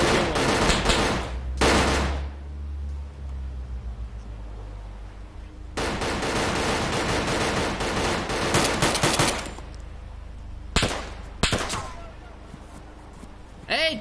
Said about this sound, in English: Who the fuck are these people shooting at us?